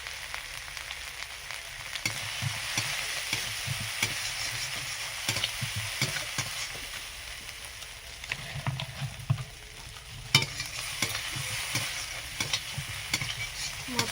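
Spices with turmeric and chili powder fry in a pan for a hilsa and eggplant curry, a continuous soft sizzle with irregular spoon scrapes and stirring knocks throughout.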